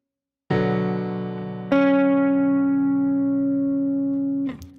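An electric guitar strums a bright, ringing chord, then a second struck note rings over it and sustains long and loud before cutting off with a short scrape.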